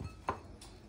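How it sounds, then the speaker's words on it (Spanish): A single crisp knife chop through fresh parsley on a cutting board, one sharp close stroke against a quiet kitchen background. "Y lo vamos a ir picando"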